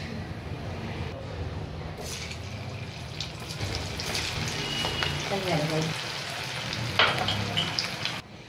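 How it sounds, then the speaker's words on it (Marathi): Manchurian balls deep-fry in hot oil with a bubbling, crackling sizzle that runs throughout, loud and close, with occasional stirring clatter and a brief sharp burst near the end. "बाकीचे पण सगळे आपण तळून घेऊया अशा पद्धतीने."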